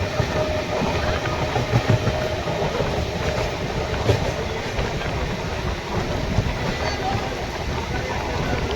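An Indian passenger train runs on rails while being overtaken by another train, giving a dense, continuous rumble with clattering wheel beats throughout and faint voices in the background.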